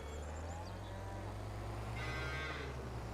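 Cattle mooing on a Farming Simulator 25 farm, several drawn-out lowing calls over a steady low farm-machinery hum, fairly distant and moderately loud throughout.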